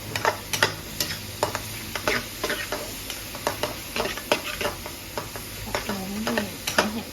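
Pork stir-frying in a pan for basil stir-fry crackles with a steady sizzle, while quick, close scrapes of a utensil stir it in a rapid rhythm, with no talking.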